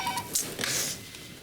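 A telephone being dialed, with brief tonal bursts near the start followed by a short stretch of noisy clicks and hiss, close and fairly loud, with no talk.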